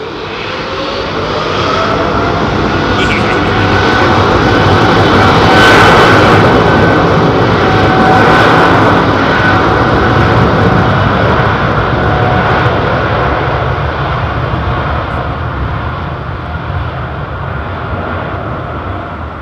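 Jet airliner taking off from London Heathrow Airport, a loud sustained engine roar that builds, peaks mid-run and slowly fades with a steady broadband rumble, no talking.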